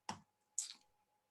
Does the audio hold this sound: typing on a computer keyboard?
yes